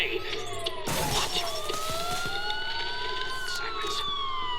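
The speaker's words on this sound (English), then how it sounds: "Sirens. The police." Police sirens wail in the Batman: Return to Arkham Asylum video game, several overlapping rising and falling tones sweeping steadily, with a sharp crash near the start amid background game noise.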